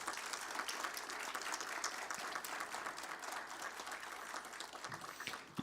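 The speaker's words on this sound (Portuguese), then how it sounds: "peço também uma salva de palmas ao nosso terceiro homenageado" Audience applause at a formal municipal award ceremony in Campinas, steady dense clapping from a seated crowd that holds throughout and tapers off at the very end.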